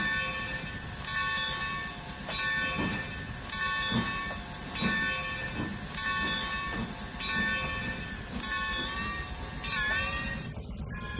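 A train in the Trainz 2019 game on the C&O Hinton route runs past with a sustained tonal whine and regular rhythmic clacks, its pitch bending downward as it passes near the end.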